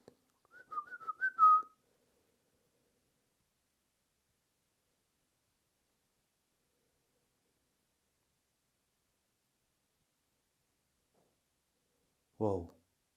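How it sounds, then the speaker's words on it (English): A short, wavering human whistle at the start, followed by long silence and then a brief low buzzy burst near the end. "could you perhaps make a whistling noise like this?"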